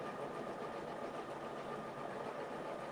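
An embroidery machine stitches out lettering on a mug rug, giving a steady, close mechanical whir and rapid needle chatter that runs on unbroken at an even level, with no voices.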